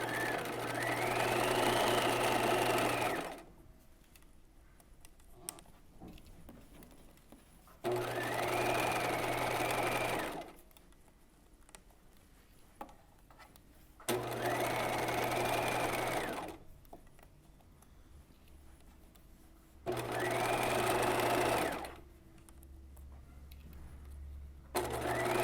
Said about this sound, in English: Back stitch first. And sew all the way down to the edge,